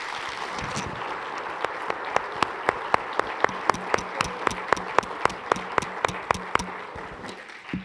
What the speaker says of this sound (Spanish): quisiera pedir de todos un aplauso